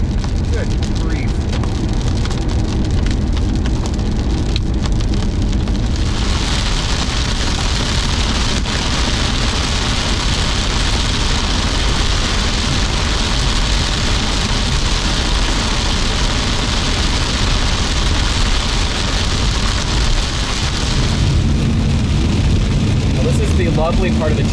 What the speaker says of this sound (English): It's a big, rainy, probably hail-filled mess.